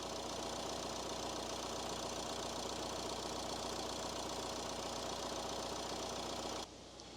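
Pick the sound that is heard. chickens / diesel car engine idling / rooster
diesel car engine idling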